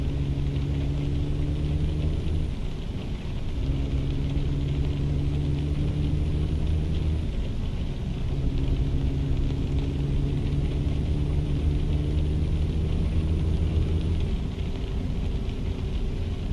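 A Freightliner FLD 120 truck engine in American Truck Simulator drones at a low, steady pitch, with the rumble repeatedly rising and dropping back as gears shift, loud and close, with no one talking.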